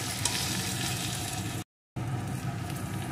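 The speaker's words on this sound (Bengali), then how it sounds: "এখন গ্যাসের জোরটা একদম লোতে করে দেব, দিয়ে আস্তে আস্তে সুন্দর করে ভেন্ডিটা ভেজে নেব" Okra fries slowly in a pan over low gas heat, giving a steady, close hiss and sizzle that breaks off for a brief silent gap before resuming.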